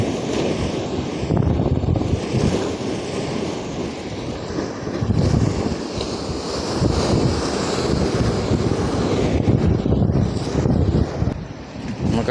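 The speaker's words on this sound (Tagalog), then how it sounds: "Malaking alon, no?" Big ocean waves breaking on a rocky shore at Um-alquin, a continuous loud roar of surf with surges, mixed with strong wind buffeting the microphone.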